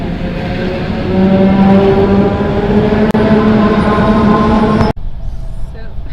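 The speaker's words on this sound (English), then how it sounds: "we're at the train and going to Riga now" Train ride to Riga: a loud, steady rumble of the moving carriage with a rising tonal whine, then a sudden drop to quieter interior noise near the end.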